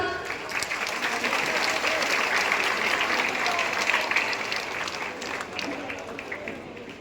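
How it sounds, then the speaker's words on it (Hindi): An audience at a lamp-lighting inauguration ceremony applauds in sustained, loud clapping that swells and then tapers, with some voices mixed in. "आप गवाह बनेंगे ताली बजाकर"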